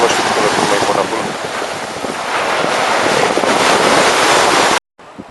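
The Veleka river flowing into the Black Sea at its small delta: loud, steady rushing of water and surf thickly mixed with wind buffeting on the microphone, cutting off abruptly near the end.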